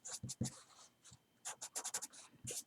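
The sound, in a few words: writing a note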